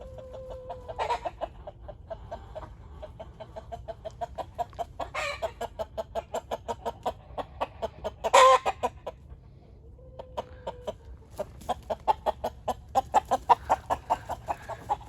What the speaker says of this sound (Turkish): Lohman Sendi horozlarımız